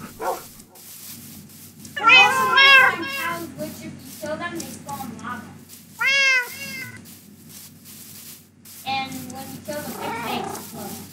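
Cats and wolves in the Minecraft game, meowing and whimpering in several short bursts with pauses between them, over a steady low background hum.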